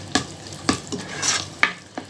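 Garlic-ginger paste going into browned onions in a hot pan: a steady low sizzle of frying broken by a few sharp scraping stirs of a spoon against the pot.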